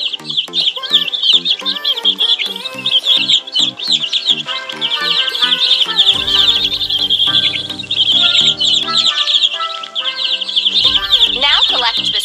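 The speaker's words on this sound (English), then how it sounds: "Feed the hungry baby birds with some seeds." Bright, busy chirps and cheeps of hungry baby birds in a children's number-learning video game, rapid and layered with brief game tones, loud and close throughout.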